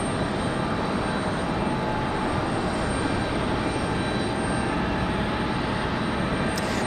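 An American Airlines Boeing 737-8 arriving from Miami at Raleigh-Durham lands with a steady, broadband jet roar that holds evenly throughout, fairly close and moderately loud, with no voices.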